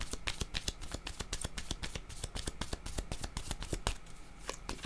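Tarot cards are shuffled briskly during a reading, a dense rapid train of sharp papery riffles and snaps heard up close and fairly loud, continuous for several seconds with a brief lull near the end.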